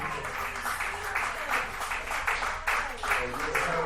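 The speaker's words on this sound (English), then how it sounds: "Another round of applause for Jeff Paul and Delgado" A comedy-show audience in a dive bar applauds, with dense, continuous clapping that swells and pulses throughout, fairly close and loud, with some voices mixed in.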